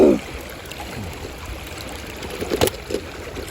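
Stripe the dinosaur swimming through water in a prehistoric island video game, a soft continuous rushing and trickling of water with a small splash near the start and a few faint sloshes later, no voices.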